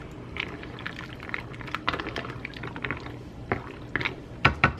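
Bowtie pasta cooking in liquid in a pan is stirred, giving wet sloshing and bubbling with scattered clinks of the utensil, growing a little louder toward the end.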